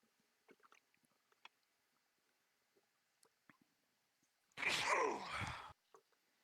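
A single loud, explosive sneeze bursts out for about a second, standing out sharply against near silence with a few faint clicks and rustles before it.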